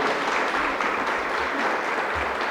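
An audience gives a round of applause to welcome professor Oswaldo Faustino at a talk on Adinkras and African wisdom, a dense, even roar of clapping that holds steady throughout.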